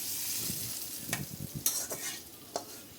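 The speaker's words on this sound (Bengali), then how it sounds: "এখানে ঘি দিয়ে একটু পেঁয়াজটা দিলাম, ফোড়ন দেবো" Onion frying in ghee in a home kitchen for khichuri tempering, a steady hiss with a few sharp spatula scrapes and stirs, close and without talk.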